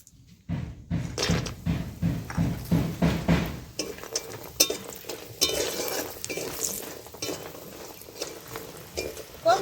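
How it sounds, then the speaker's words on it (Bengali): Dried lentil dumplings frying in hot oil in a pan, with sizzling and repeated rhythmic stirring scrapes at first, then a steadier crackling fry with occasional utensil clinks. "এখন ভেজে নিচ্ছি ডালের বড়ি।"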